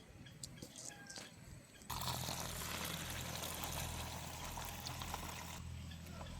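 Sesame seeds washed by hand in a vessel of water, with a soft trickle and then a steady sloshing, pouring rush that continues close and moderately loud.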